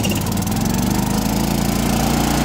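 John Deere 312 riding lawn mower engine running loud and close, a steady pulsing mid-low drone with no pause.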